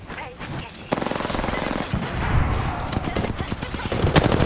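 Rapid automatic gunfire in the video game Apex Legends, a dense, loud stream of shots that starts abruptly about a second in and keeps hammering to the end, with excited voices mixed in.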